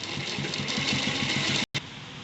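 A sewing machine stitches along a kurta collar edge, its motor giving a steady, close mechanical hum with a brief cut in the middle.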